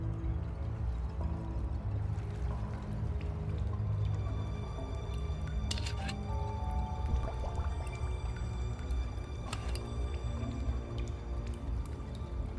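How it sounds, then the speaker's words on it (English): A bottle scooping up algae water, with soft gurgling, squishing and dripping sounds over a low continuous rumble and a few sharp clinks, fairly faint and with no talk. "I scooped up some of the algae water."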